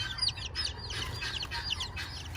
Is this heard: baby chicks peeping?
yes